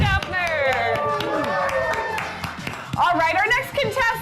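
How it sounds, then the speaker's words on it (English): Audience applause at a holiday game show during a firm meeting, lively clapping from a crowd, with whoops and cheering voices rising over it throughout. "Round of applause for Mike Schaffner."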